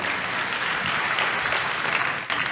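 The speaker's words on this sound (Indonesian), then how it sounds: "Tepuk tangan yang paling meriah buat itu" A youth service congregation breaking into lively applause, with a dense, continuous wash of many hands clapping at moderate volume.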